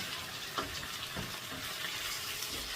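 Brinjal frying in oil in a pan, a close, even sizzle with a few soft scrapes and thumps as it is stirred gently.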